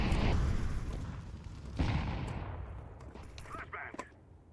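A flashbang grenade detonates in a first-person shooter video game, producing a loud broadband blast that decays into a hissing tail, followed by a second burst and scattered sharp game sounds, with voices underneath.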